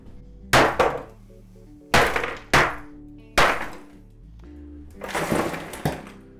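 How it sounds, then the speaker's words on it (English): A very tiny hammer strikes a block of regular ice: several loud, close, cracking whacks in an irregular rhythm, some in quick doubles, ending in a rougher crunching burst. "I do have the Mr. Pashler patented bullet simulation device, i.e. the tiniest hammer in the world."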